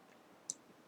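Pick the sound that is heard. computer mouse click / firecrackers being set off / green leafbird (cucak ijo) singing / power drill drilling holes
computer mouse click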